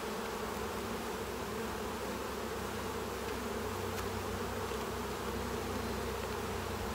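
Honey bees, Saskatraz stock, buzz at an open hive during a frame inspection, the frames heavy with honey. A dense, steady swarm hum carries on without a break, close and even, with no talking.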